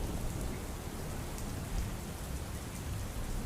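Steady rain falls in Surat as a dense, even hiss of drops on surfaces, soft and continuous with no voices.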